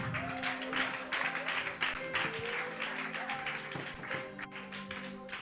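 Audience applause and scattered clapping at a religious gathering with a prophetess, a dense steady patter with voices mixed in.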